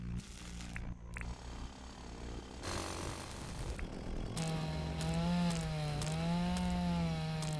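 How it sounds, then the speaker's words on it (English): Chainsaw grinding against rock in the Dinkum video game, a loud buzzing engine drone that rises and wavers steadily through the second half after a rougher, scattered start. "Oh, wow, that's hard to break open with the chainsaw."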